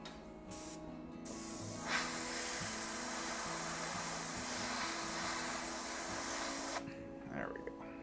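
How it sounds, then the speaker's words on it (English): An airbrush sprays chrome paint in a steady close hiss lasting several seconds, starting and stopping in short bursts, with a voice speaking over it. "airbrush Chrome"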